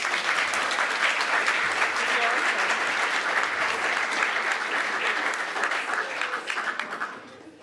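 Sustained audience applause follows a presentation at a data and digital showcase event, a dense steady wash of many hands clapping at full strength before tapering off toward the end, with a few voices faintly mixed in.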